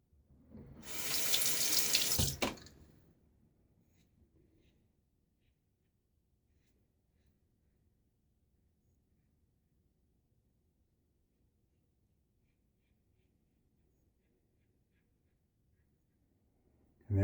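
A bathroom tap runs for about two seconds to rinse a razor during a wet shave, a short close splashing burst of water into a sink, followed by near silence.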